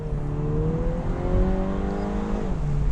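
A 2024 MINI Cooper S Convertible engine, around 200 horsepower, revs steadily and climbs in pitch as it accelerates, a loud, continuous droning growl with rising harmonic tones throughout.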